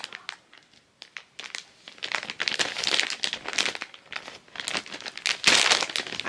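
Packaging is torn and crinkled open by hand with a fingernail, a series of close, crisp rustles and sharp tearing bursts in irregular spurts with short pauses between.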